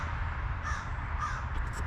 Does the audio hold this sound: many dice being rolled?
no